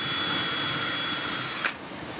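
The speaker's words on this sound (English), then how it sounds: "what I'm going to do is drill a hole in behind the weather strip" A power drill whines steadily at high speed for under two seconds, then cuts off abruptly, drilling a hole behind the weather strip of an exterior door frame.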